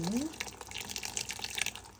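Curdled goat milk is poured slowly into coffee filters set in a colander, a soft, close trickle and splash of liquid that swells and fades in brief bursts.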